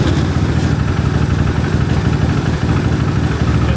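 A KTM 525cc cross kart engine, running without an airbox, idles close by with a loud, steady, slightly uneven thumping beat and a rough low rumble throughout.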